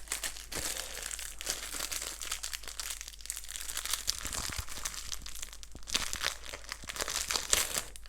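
Cardboard and plastic packaging of a board game crinkling, crumpling and tearing as the box is opened, a close, continuous rustle with sharper rips throughout.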